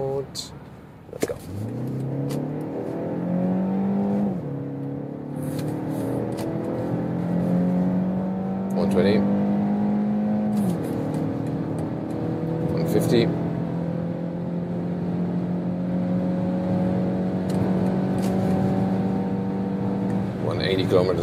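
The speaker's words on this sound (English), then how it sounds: "This is the sportiest setup here for this vehicle, and we start from 45 kilometers an hour and accelerate it out." BMW X1 23i SUV in sport mode accelerating from 45 km/h: engine note climbs steadily through several gear changes over about twenty seconds, heard from inside with someone talking over it.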